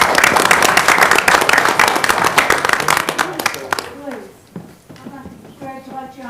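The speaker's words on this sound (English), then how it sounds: "We applaud you." Audience applause at a county commission meeting for a 25-year government years of service award, dense clapping for about four seconds that thins out, followed by a voice speaking.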